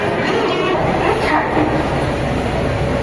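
The Maa Tara Express standing at platform 7 of Sealdah station, a loud continuous rumble and clatter of rail noise filling the platform, with voices mixed in.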